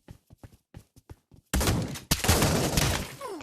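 Gunfire from a gun in the Pavlov VR video game: a string of short, sharp shots fires in quick succession, then a dense, loud burst of rapid fire follows.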